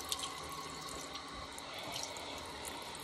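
Water runs steadily from a bathroom sink tap during a face rinse at night, a continuous close splashing hiss with no talking.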